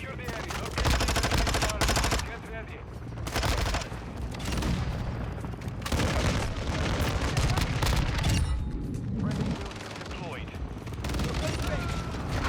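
Vaznev 9K submachine gun fire in Call of Duty, loud rapid bursts repeating across the stretch with short pauses between, mixed under a player's voice commentary.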